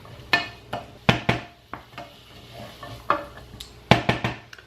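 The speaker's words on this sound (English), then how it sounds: "So again, give that a good stir." A spoon stirring tomato and lentil soup in a pot, knocking and clinking sharply against the sides in irregular bursts, with softer scraping between the knocks.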